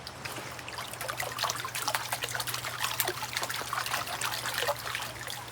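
Water trickles and sloshes steadily in a gold pan at Thermal City Gold Mine as light material washes off, a close, continuous splashing dribble with no voices.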